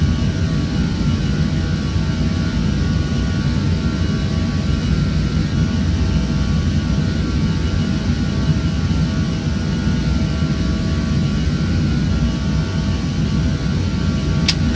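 Airbus A320 jet engines in the Prepar3D flight simulator, a steady, even cockpit drone of engine roar and low rumble held constant for the whole stretch, with no talk.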